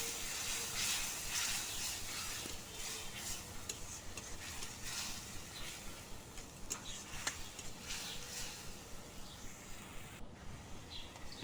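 Spice paste with salt, turmeric, cumin powder and chili powder frying in a pan for a spinach and pea dish, a continuous soft sizzle and hiss with occasional light ticks of stirring, steady and close.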